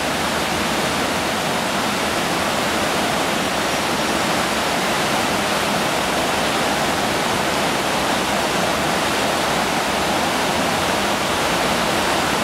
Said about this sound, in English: Get you a little bit closer to the weir now.